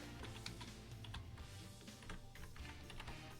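Quiet, fast typing on a computer keyboard, a steady patter of soft key clicks with a few slightly firmer presses like the Enter key, heard close and alone.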